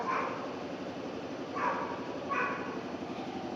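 A dog whines and whimpers in a cold spot outdoors, giving three short, high cries spaced a second apart over a low, steady background hum.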